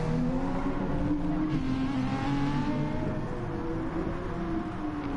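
A race car overtaking in an IMSA racing video game at Fuji, with a steady, loud engine drone and rising and falling pitch as cars run close together, with no talking.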